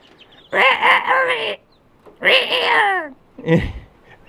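Three short, strained crowing attempts from a young rooster, each breaking off unevenly, close by with brief pauses between them.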